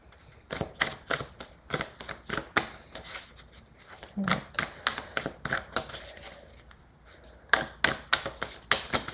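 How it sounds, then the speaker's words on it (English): Tarot cards being shuffled by hand, a quick series of crisp riffling and slapping bursts close up, pausing briefly midway before the rapid shuffling resumes. "I always pre-shuffle, but then sometimes I feel called to shuffle again"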